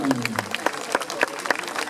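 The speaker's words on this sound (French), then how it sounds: "public, on peut applaudir l'écarteur d'Andignon" Spectators at a course landaise in Estibeaux applauding a leaper, scattered clapping from a crowd heard at a distance, mixed with some voices.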